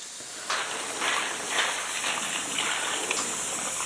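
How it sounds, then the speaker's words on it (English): Cold water gushes and hisses steadily over freshly smoked pastrami-flavored sausages cooked in a Dyna-Glo, starting after a brief quiet moment and running close and continuous to the end. "get some cold water on these."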